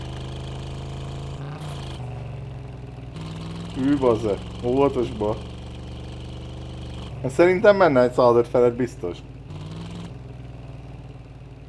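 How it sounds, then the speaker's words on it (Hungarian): Simulated V8 engine in a Lada revving in the driving game Drive Beyond Horizons, rising in short bursts of revs over a steady low drone while players talk over it. "Ez kemény az a motor."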